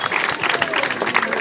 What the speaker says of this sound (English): But you all deserve to have a big clap, not from yourselves, but from the staff as well.